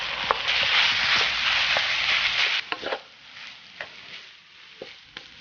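Steamed glutinous rice is stirred into a filling seasoned with salt, five-spice powder and light soy sauce: dense, close rustling and scraping for the first half, then thinning to scattered soft clicks and taps.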